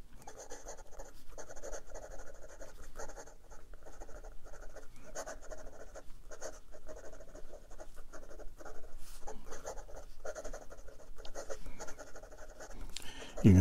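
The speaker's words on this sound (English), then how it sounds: "And let's try some quick writing." A 1931 Parker Duofold Junior fountain pen scratches quickly across paper, giving faint, close, rapid strokes of nib scratching with short gaps between them.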